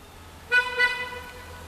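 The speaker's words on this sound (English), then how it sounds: "they beep their horns to warn other incoming cars" Car horn from a vehicle leaving an underground parking lot, a double beep, two short tooting blasts at moderate distance over a quiet hum.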